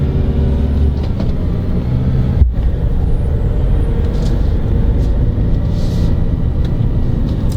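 A 2019 Vauxhall Mokka X with an Ecotec diesel engine pulls away and accelerates, a loud, steady low engine and road rumble heard from inside the cabin.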